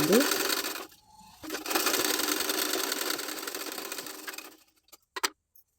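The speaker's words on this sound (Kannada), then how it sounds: "ಈಗ ಈ ರೀತಿ ನಾವು ಬ್ಲೌಸ್ನ ಮೊದಲು ಸ್ಟಿಚ್ ಮಾಡ್ಕೊಳ್ಬೇಕು" A sewing machine stitches a blouse: a rapid mechanical whirring run starts up, pauses briefly, then runs on for a few seconds before stopping, followed by a couple of faint clicks.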